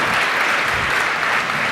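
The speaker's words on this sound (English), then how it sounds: "It's not me applauding, it's them applauding." An audience at an AI workshop with cellist Yo-Yo Ma claps in a dense, continuous burst of applause, loud and close, with no talking over it.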